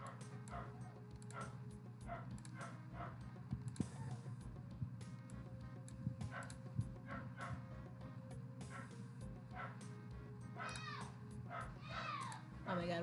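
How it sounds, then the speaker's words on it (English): Dogs bark and yip repeatedly in the background, mixed with whimpers and a cat-like meow, under a busy, low household hum. "Oh my god, there's dogs barking."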